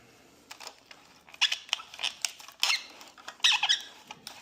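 Squeaky plastic joint of a Buzz Lightyear action figure being worked back and forth, a series of short, high-pitched creaks and squeals in uneven bursts, close and fairly quiet.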